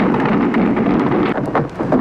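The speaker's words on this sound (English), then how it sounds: "now the flak is coming up in the sky" Anti-aircraft flak fire booms during a wartime night air raid, loud rumbling bursts rolling together in a crackly old broadcast recording.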